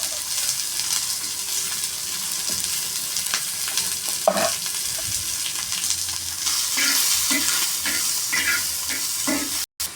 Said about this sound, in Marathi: खोबरे चांगले भाजले की त्यातच कांदा घालून भाजून घ्यायचा आहे.